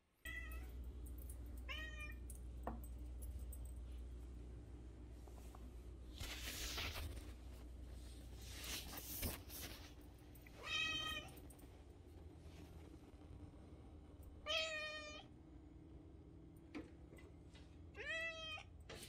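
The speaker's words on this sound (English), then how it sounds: "There's a cat over there." A cat meows outdoors, several separate drawn-out cries spaced apart over steady low background noise, fairly close, with a few bumps and rustles in between and no talk.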